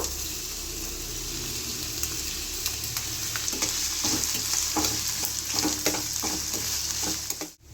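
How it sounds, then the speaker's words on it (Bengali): Finely chopped onions fry in oil with a steady, close sizzle, broken by brief scraping stirs from a utensil against the pan; no one talks. "পেঁয়াজগুলোকে লাল লাল করে ভেজে নেব"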